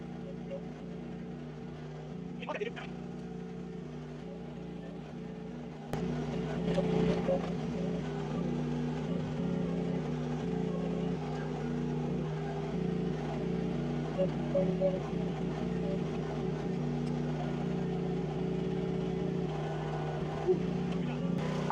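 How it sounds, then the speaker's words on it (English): A Briggs & Stratton XR gasoline engine runs in a steady, droning hum that grows louder partway through and continues without a break. "Oh nope, this one's a Briggs & Stratton XR."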